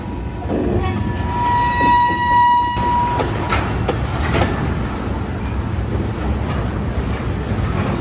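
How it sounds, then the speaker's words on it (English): A Union Pacific freight train passes on the railway tracks in New Orleans with a loud, steady rumble and clatter of cars, while a horn tone sounds for the first few seconds and then drops away. "That's a regular train."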